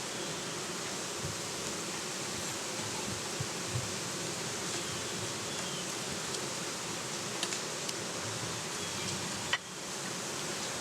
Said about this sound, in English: You see these bees flying around my hand? Those are guard bees.